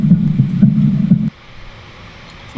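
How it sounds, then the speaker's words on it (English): Heartbeat from a pickup mechanic in a game: steady, low, thudding beats repeating about twice a second, loud and close, then cutting off abruptly into quiet hum. "So when you pick it up, you hear a heartbeat"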